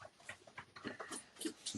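A dog whines and whimpers in short, soft bursts with some panting, close by and fairly quiet, in a home setting.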